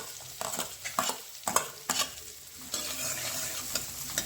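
Chopped green chili and onion fry in melted butter in a pan while being stirred, a continuous sizzle cut by repeated sharp scraping and tapping strokes of the spoon, close up with no voices.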